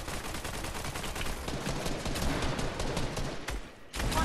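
Fortnite gunfire rattles in dense rapid volleys, loud and near, with a brief dip in the last second before the shots resume; no one speaks.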